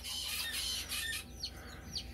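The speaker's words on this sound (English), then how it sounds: "Are they not just the cutest little chickens ever?" Olive egger baby chicks peeping, a quick run of high thin chirps followed by a few sharper separate cheeps, close by.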